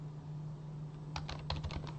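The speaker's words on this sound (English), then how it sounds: "If you prefer to use keyboard for speed, as I do, you just start typing." Computer keyboard typing: a quick cluster of crisp key clicks, close and clear, after a second of quiet room hum with a steady low electrical drone throughout.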